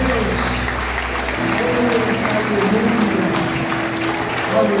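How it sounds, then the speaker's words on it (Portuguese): A church congregation claps during a Portuguese-language sermon, a continuous loud wash of applause with faint vocal sounds and sustained tones mixed in. "Uma salva de palmas para o Senhor."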